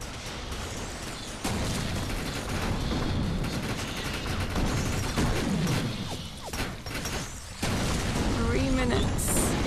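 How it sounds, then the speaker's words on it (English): Rapid assault rifle bursts crack and rattle through a chaotic firefight in the shooter game Defiance, loud and repeated with explosive booms, while someone talks over the action. "Yes, I enjoy me some proper assault rifles."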